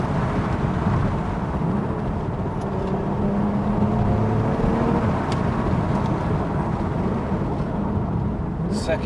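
Engine of a BMW 1M Coupe while driving, a loud steady drone with a rising and settling tone, continuous throughout with faint background noise.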